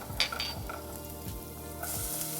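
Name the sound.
garlic and onions sizzling in olive oil in a pan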